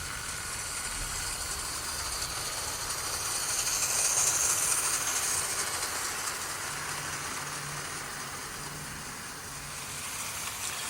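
A model 0-6-0 tender steam locomotive running along track, a steady faint mechanical whir and hiss that swells slightly mid-way as it passes, with no talk.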